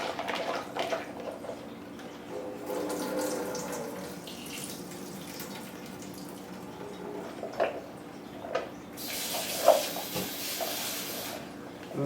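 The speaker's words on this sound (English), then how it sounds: "Give it a quick rinse." Shiitake mushrooms are rinsed under a kitchen tap, a steady hiss of running water with faint drips and splashes, close and fairly soft, with a few clinks and a brief louder gush near the end.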